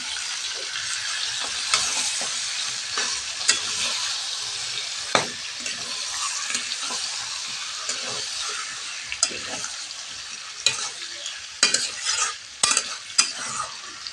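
Desi chicken meat with plenty of fat frying in a pan, giving a steady close sizzle throughout with occasional sharper stirring clatters.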